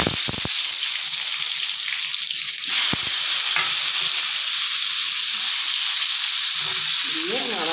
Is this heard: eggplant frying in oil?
yes